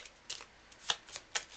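Board game cards from a SETI solo game being shuffled back into a deck, a few quiet, crisp riffling bursts spaced irregularly, close by with no voices.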